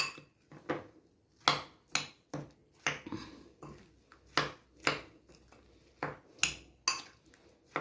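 A metal spoon stirs bilimbi chilli pickle with about 100 grams of raw groundnut oil in a pot, making about a dozen close, sharp clinks and scrapes in an uneven rhythm, with no talking.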